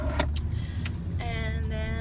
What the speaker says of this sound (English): Just seeing these cars go by.